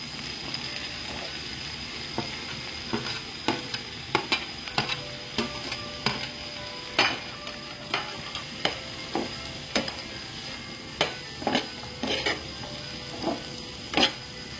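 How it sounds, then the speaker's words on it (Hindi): Onions and finely chopped tomatoes frying together in a pan for Goan fish cutlets, with a soft sizzle under frequent scraping stirs and clinks of a spoon against the pan. "ती बारीक फायन कातोले ती हांवें हे पियाव मिक्स करून मातशें फ्राय कोतोले।"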